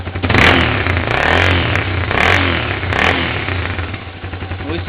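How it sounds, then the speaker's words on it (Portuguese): A Honda CB300 motorcycle with its exhaust valve closed, back to the stock sound, revs loudly several times in a row, rising and falling bursts over a steady close engine note, with no talk. "o som volta ao original da moto"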